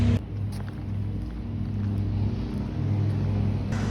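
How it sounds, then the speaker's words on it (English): A lawnmower runs nearby on a quiet residential road, a steady low engine drone holding constant for a few seconds with no talk over it. "Hold on a sec, lawnmower."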